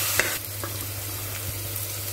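Biryani masala sautéing in a pan for mutton biryani, a steady close sizzle with a low hum beneath and a few brief scraping clicks from stirring.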